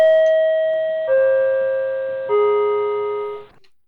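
A voice imitates a subway chime with three clear, sustained tones that step downward in pitch, each ringing and slowly fading before the next, loud and close.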